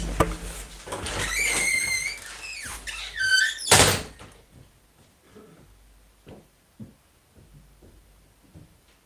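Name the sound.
door being checked, opened and closed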